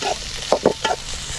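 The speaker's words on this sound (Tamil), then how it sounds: "நாங்கள் வந்து சைடு வெங்காயம் நல்லா வதங்கினதுக்கப்புறம் தக்காளி போடுவோம்" Onions sauté in a pan for chicken kari dosai, a loud steady sizzle broken by a few quick stirring scrapes near the middle, close up with no talking.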